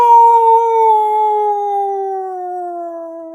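A person imitates a wolf howl, one loud sustained wavering note sliding gradually lower in pitch over several seconds, close and clear with no other talking.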